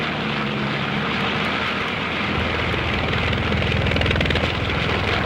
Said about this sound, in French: Le pilote tire sur les manettes des gaz, fait gronder les 4 moteurs de toute leur puissance.